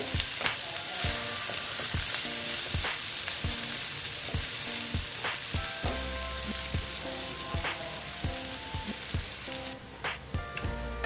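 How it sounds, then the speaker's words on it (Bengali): Dried fish sizzles in oil in a pan, a steady frying hiss broken by regular stirring scrapes and knocks of a spatula, close and continuous with no talking. "এটাকে আর একটু ভেজে নিচ্ছি ফটাফট হয়ে যাবে"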